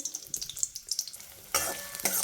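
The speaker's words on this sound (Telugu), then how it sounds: "ఆనియన్స్ బాగా వేగాయి" Onions frying in hot oil for egg masala curry, a steady close sizzle with scattered crackles and stirring scrapes, jumping much louder and hissier partway through as the pan is stirred or more oil spits.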